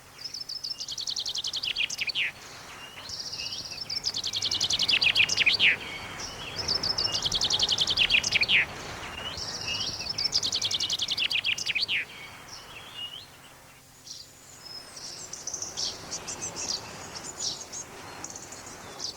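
Outdoors near rhododendrons, a chaffinch repeats bright chirping phrases and a robin ticks low down in the shrubs, clear and fairly close over faint background ambience, with quieter calls trailing off at the end.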